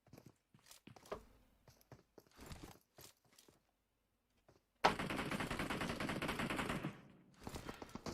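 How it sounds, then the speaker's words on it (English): Gunfire trades back and forth between two teams in a competitive shooter match: scattered single shots and short bursts at first, then a long, dense stretch of continuous rapid fire for about two seconds, followed by more sporadic shots. "So shots coming out between the 2 teams."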